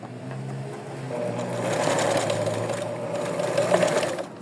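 Sewing machine running steadily to restitch a crooked seam on doll clothes, a continuous close motor whir with a slight rise toward the end.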